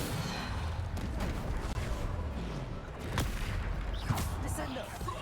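Bombarda and Depulso spell blasts fire in Hogwarts Legacy combat, sharp booming bursts landing amid a dense, noisy rumble of battle, with voices present in the mix.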